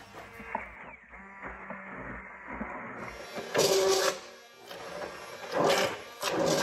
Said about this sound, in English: now I'm just blending it smooth